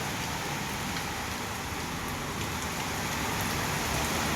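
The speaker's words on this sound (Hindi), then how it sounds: "देखो कितनी तेज बारिश, झमाझम बारिश" Heavy monsoon rain pours down beside a gate, making a loud, dense, unbroken hiss and drumming close by.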